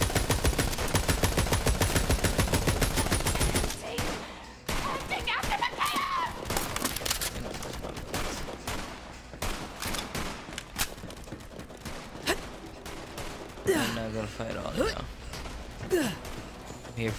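Rapid bursts of gunfire in the video game Borderlands 3, a steady automatic-fire rattle mixed with game effects and music across the whole stretch, with occasional speech.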